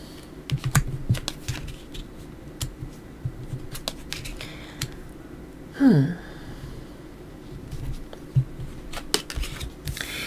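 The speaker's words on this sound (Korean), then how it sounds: "타로 카드 열어볼게요." Tarot cards are opened and laid out on a table in scattered soft taps and clicks. Near the middle comes a single brushing slide of cards, all quiet and close with no speech.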